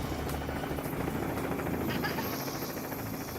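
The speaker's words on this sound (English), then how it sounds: "land this helicopter on a rock in the middle of the ocean" A helicopter comes in to land on a rock in the middle of the ocean, its steady rotor chop and turbine whine loud and continuous throughout.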